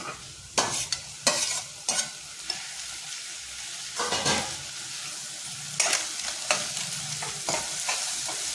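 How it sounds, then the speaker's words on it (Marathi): Onion and tomato sautéing in a pan for Malvani-style egg chutney, a steady close sizzle broken by repeated sharp scraping strokes of a spoon stirring through the mixture, with no talking. "कांदा गुलाबी होईपर्यंत परतायचा आहे"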